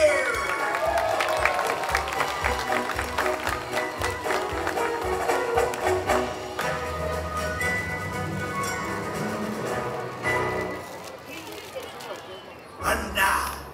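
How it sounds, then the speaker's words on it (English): Audience at a Legoland pirate show cheering and applauding for Boaty, a sustained burst of crowd noise and clapping over music, with an announcer's voice talking through it. "Come on now, let's give Boaty a big cheer."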